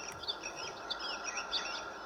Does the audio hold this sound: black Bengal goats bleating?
no